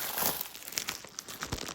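A cloth tablecloth being spread out over a table at home, with soft crinkling and rustling swishes, a few sharper flaps, fairly quiet and close.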